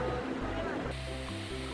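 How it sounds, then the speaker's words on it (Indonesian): Kedung Kayang waterfall, with a steady broadband rush of falling water filling the scene, close and continuous, while a voice speaks over it. "Ini dia air terjunnya. Air terjun ini bernama air terjun Kedung Kayang."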